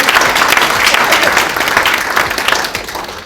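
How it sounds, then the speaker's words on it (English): A round of applause from an audience at a launch event, a loud, close, continuous burst of many hands clapping that fades slightly at the end. "That deserves a round of applause."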